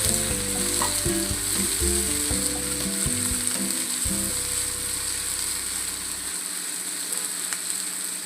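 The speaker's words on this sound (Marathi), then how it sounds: "कांदा चांगला परतून" Onion frying in a pan makes a loud, dense sizzle throughout, with rhythmic scraping and rattling of stirring in the first half before settling into steady crackling hiss.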